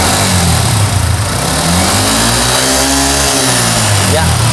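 A car engine revs up and settles back during a test with an AFR meter, the rising and falling drone loud and close, with someone talking over it.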